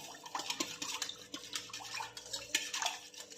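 A spoon stirs tempered buttermilk of curd and water in a bowl, with sloshing swirls and light clinks against the sides, close and steady with no voices.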